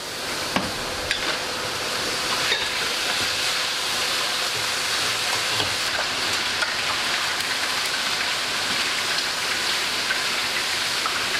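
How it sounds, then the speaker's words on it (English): Fish pieces being stirred in a hot pan give off a steady, loud, rain-like sizzling hiss throughout, broken by occasional sharp scrapes and clicks, with no one talking. "We're gonna stir that up."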